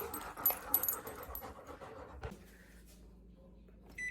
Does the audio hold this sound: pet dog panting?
yes